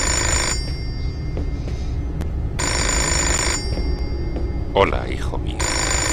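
A telephone rings in repeated bursts in a Fahrenheit (Indigo Prophecy) PS2 game scene, loud rings alternating with short gaps while someone speaks briefly over it.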